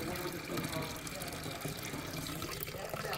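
Water gushes steadily from a nozzle into a container being filled to the top, a continuous faint splashing rush with no break.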